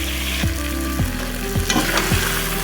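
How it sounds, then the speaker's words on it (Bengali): Chicken curry sautéing in a pan with ground dried red chilli paste, a steady loud sizzle broken by repeated scraping strokes of a spoon stirring the mixture, close up with no voices. "এখন ভালো করে কষিয়ে নেব।"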